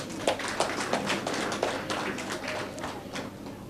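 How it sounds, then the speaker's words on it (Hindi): Audience at a Bharatiya Janata Party event in Navi Mumbai clapping together, a steady patter of many hands with a few sharper claps standing out, moderately loud and with no one speaking over it. "जोरदार ताली बजाइए।"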